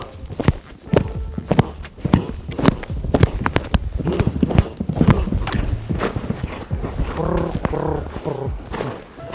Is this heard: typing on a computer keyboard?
no